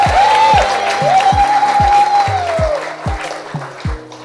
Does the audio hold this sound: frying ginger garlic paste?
no